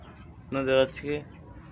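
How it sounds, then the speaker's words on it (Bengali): Domestic pigeons at a home loft, including a brooding bird on eggs, give a brief burst of cooing with two close calls, near and fairly loud against a quiet background. "তো আরও কিছু কবুতর দেখাবো আপনাদের আজকে।"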